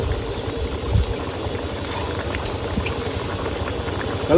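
Rui fish curry boiling in a pot outdoors, a steady, close bubbling and simmering wash with a low rumbling undertone and a slight swell at the very end.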